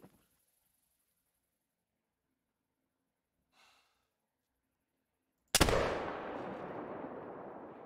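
A single muzzleloader rifle shot in theHunter: Call of the Wild cracks out loud and sudden after near silence, then its long rumbling boom rolls away and fades slowly.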